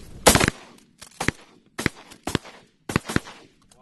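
Loud, close shotgun blasts fired at mallards while duck hunting on a North Dakota pothole, several sharp shots in quick uneven bursts spread across a few seconds, with no talking.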